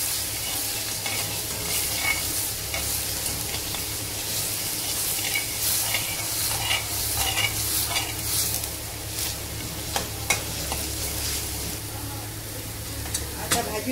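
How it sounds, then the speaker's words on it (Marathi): Garlic and ginger roasting in oil in a pan until reddened, a constant close sizzle with intermittent scraping and stirring strokes and a steady low hum in the background. "लसूण आणि अद्रक आणि ती चांगली भाजून देणार आहे। लाल कलर येईपर्यंत।"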